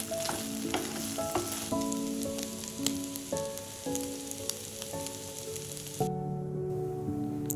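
Chopped garlic frying and sizzling in a pan with chicken and sausage for chopsuey rice, a steady dense crackle with stirring scrapes, close and continuous throughout.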